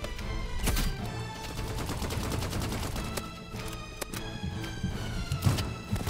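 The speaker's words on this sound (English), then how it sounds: "that flare gun is insane" A flare gun and other weapons fire in the Roblox Rivals video game, giving a dense stream of rapid gunshot bursts and thumps over a busy game soundtrack at moderate level.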